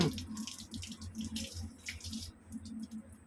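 Water is poured over a freshly cleaned Click motorcycle coated with Botny waterproof wax, a steady, fairly soft splashing that stops after a couple of seconds.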